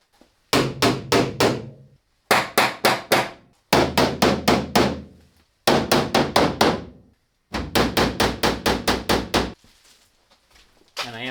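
Knuckles rap on the bare metal door panel of a 2011 Ford Transit Connect van before sound deadening, in five loud bursts of four to six quick hollow knocks separated by short pauses.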